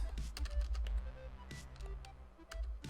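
Fingers typing on a computer keyboard while editing source code, a loose run of light clicks and taps over a low steady hum.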